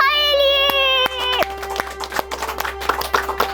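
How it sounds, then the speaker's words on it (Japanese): Studio audience applause at a year-end Digimon producers' gathering, scattered hand claps that start after a sustained musical tone and continue unevenly, near and fairly loud. "聞いてください、この拍手の量。"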